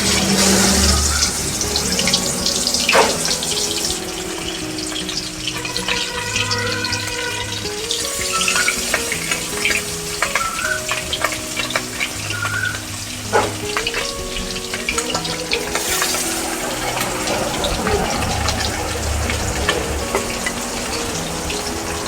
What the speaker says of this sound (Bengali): মাছগুলো কিন্তু ভাজা হয়ে গেছে